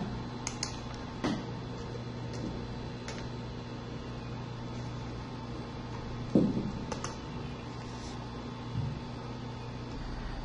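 Computer keyboard keys are tapped in a few sharp, scattered clicks, with one firmer press midway, over a steady low room hum.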